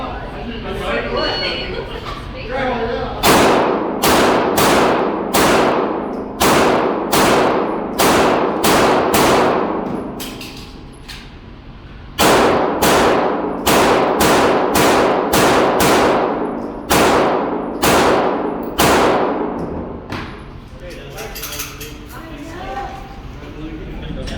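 A Sig P320 X5 Legion pistol fires at bowling pins in two fast strings of about ten sharp, loud shots each with a brief reload pause between, echoing outdoors while a person speaks now and then.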